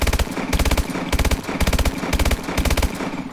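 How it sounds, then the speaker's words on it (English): Rapid automatic bursts from an AMR9 submachine gun fitted with the Hipshot attachment in Call of Duty Advanced Warfare, five or six short, evenly spaced volleys at a fast rate of fire, loud and close with no voices. "And this is the Hipshot's rate of fire."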